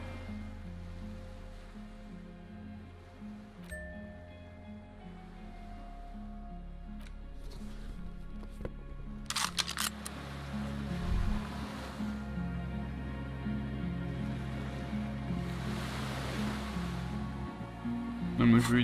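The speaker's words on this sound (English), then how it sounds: "The skiff is swaying on the waves by the dock." Water lapping around a skiff moored by a dock in the game Disco Elysium, a soft continuous wash of waves beneath sustained musical tones, with a couple of brief louder splashing surges midway.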